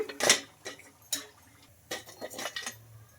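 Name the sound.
putting fried snacks onto a plate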